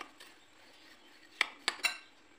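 Dry ingredients for Tunisian bey bread are mixed in a bowl. A faint stirring hush gives way to three sharp, close metallic clinks of a utensil against the bowl, spaced a fraction of a second apart.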